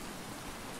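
Rain falls steadily in a survival video game on a deserted island, a soft, even hiss of faint, wide noise with no talk.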